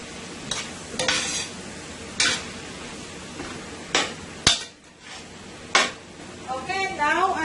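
Vegetables for Guyanese-style chow mein are tossed in a hot pan, with a steady sizzle and repeated scraping and clanking strokes of a utensil against the metal, plus one sharp knock; a voice talks over it.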